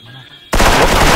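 Video game gunfire erupts abruptly after a quieter moment, a loud dense burst of rapid automatic shots filling the rest of the clip.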